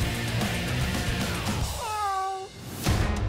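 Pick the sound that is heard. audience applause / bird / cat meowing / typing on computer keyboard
cat meowing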